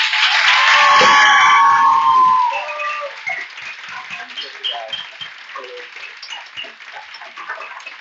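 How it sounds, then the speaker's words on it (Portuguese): An audience bursts into applause for a general coordinator at a closing event, loud and dense at first, then thinning out into scattered claps and cheers with voices murmuring underneath. "Então eu gostaria que todos vocês fizessem uma salva de palmas para o nosso coordenador geral"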